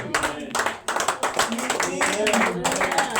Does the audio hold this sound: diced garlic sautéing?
no